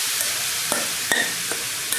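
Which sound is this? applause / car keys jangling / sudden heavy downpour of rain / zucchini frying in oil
zucchini frying in oil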